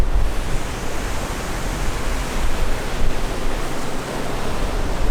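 Outdoors, wind buffets a phone microphone in a loud, constant roar of rumbling noise that never lets up, with no voices over it.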